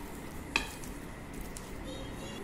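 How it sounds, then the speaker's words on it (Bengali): Chopped onion fries in mustard oil, a soft continuous sizzle with a brief scraping stir near the start. "এটাকে ভেজে নিব পেঁয়াজ কুচিটাকে।"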